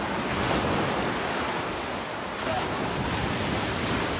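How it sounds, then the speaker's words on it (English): Waves wash onto the beach of Lake Kivu at Gisenyi, Rwanda, a dense, steady roar of surf mixed with strong wind buffeting the microphone. "this is the beach, guys"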